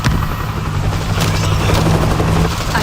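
A helicopter in the video game World War Z thrums steadily and loud, its low rotor pulse layered with dense combat noise and distant booms.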